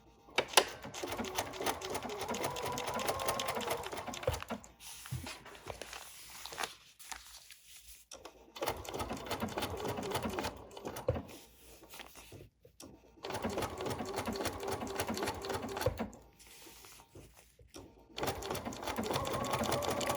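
Sewing machine stitching a bunny applique with Aurifil thread, a close rapid whirring chatter in bursts of several seconds separated by short quiet pauses, no talking.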